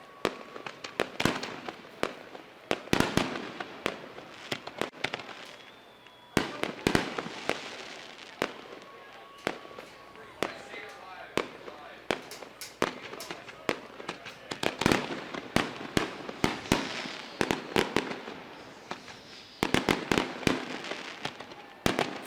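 Fireworks bang and crackle continuously at a dirt track speedway during a Super Dirt Cup finale night, with dense, loud bursts popping one after another throughout.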